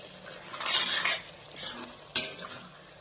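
Pork with kosu (taro) being stirred in a pot: a soft sizzle under a few bursts of scraping and clinking spoon against metal, ending in one sharp knock, close, with no talking.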